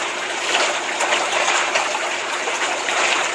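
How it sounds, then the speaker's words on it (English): Water jets gushing steadily into a river, a continuous broadband rush with no pauses, loud and close throughout. "this kind of reminds me of the Cowichan River right now, with these jets on"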